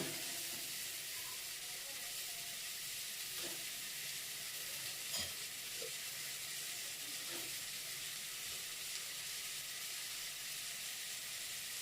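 Idli upma being stirred and fried in a pan, a steady hiss of sizzling with scattered soft scrapes of the spoon, continuous and close with no talking.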